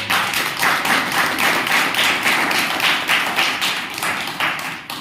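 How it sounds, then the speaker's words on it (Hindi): A church congregation in Bahera claps in unison in a steady, rhythmic beat during a Hindi Christian worship service. The clapping stays loud and even for several seconds with almost no talking. "ताली बजा के परमेश्वर।"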